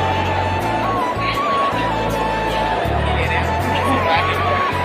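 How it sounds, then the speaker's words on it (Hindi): A large crowd at Chhatarpur temple in Delhi during Navratri, a dense continuous hubbub of many voices with music or chanting underneath and a steady drone, close and loud. "तो यार देखो बहुत भीड़ है यार"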